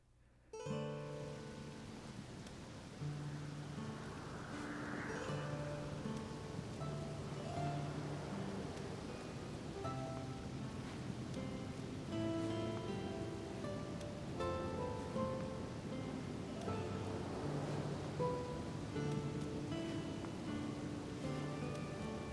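Steady rain falling outside in a Wii game of The Legend of Zelda: Skyward Sword, a constant hiss under soft tonal game music, with no voices.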